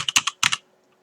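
Close computer keyboard keystrokes while typing code, a quick burst of about six crisp clicks in two short groups, followed by quiet.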